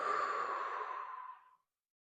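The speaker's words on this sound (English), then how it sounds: "Deep breath." A single deep, breathy exhale after drawing from a Storz & Bickel Venty vaporizer, close and loud at first, then tapering smoothly into silence after about a second and a half.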